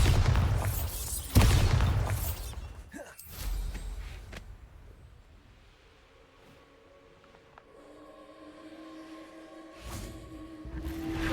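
The Bombarda blasting spell goes off in Hogwarts Legacy inside a mine: a loud booming explosion with crackling debris at the start, a second impact shortly after, then a long fading rumble and a later thud.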